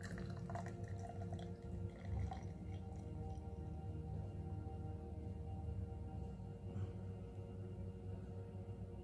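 Brewdog Basic Shake milkshake IPA pours into a glass, a steady liquid glug and fizz with a low sustained hum beneath, close and continuous with no speech.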